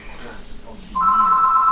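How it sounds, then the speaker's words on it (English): A telephone rings in the background, a steady electronic trill that starts partway through and continues to the end, with faint talk underneath. "I have a phone in the background."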